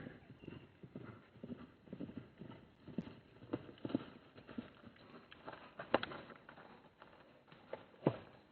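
Wild horses cantering across the Namib Desert, their hooves clip-clopping in an irregular rhythmic patter, faint and at a distance, with a few sharper hoof strikes standing out.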